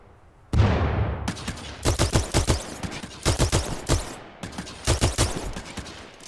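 Rapid bursts of weapon fire from the video game Titanfall 2, loud and close, with sharp repeated shots in clustered volleys separated by brief pauses and no voices.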